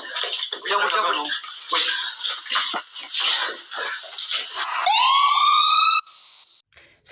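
Ambulance siren in a drama scene: after a stretch of agitated voices, a loud electronic wail sweeps upward and holds for about a second before cutting off.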